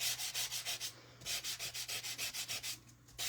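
Paper being rubbed while crafting a card, a quick series of soft, even back-and-forth scratchy strokes, close and quiet, with a short pause in the middle.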